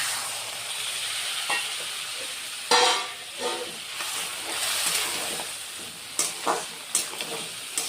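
Water poured into a pan of sizzling borali fish curry with potatoes and pointed gourd: a close, steady frying hiss that flares into a sharp burst, followed by scattered stirring clinks.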